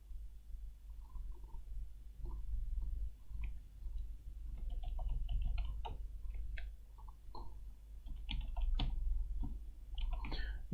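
Password being typed on a computer keyboard, with a steady run of light key clicks close up over a low background hum, no voices.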